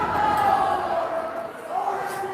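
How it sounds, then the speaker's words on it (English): A student crowd boos steadily through a high school volleyball finals match between Highland and Chardon, a loud, sustained mass of voices with no distinct breaks. "our students are booing them"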